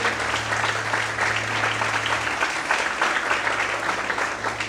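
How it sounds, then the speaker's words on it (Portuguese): Steady, dense applause from a church congregation, a continuous clatter of many hands clapping throughout, with a low hum underneath. "Quantos podem aplaudir e adorar a Ele em nome de Jesus?"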